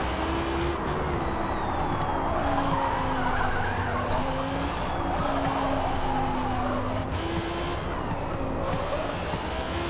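A race car in Forza Motorsport oversteers and skids, its engine droning steadily while tire squeal rises and falls across the whole stretch, loud and continuous with no talk.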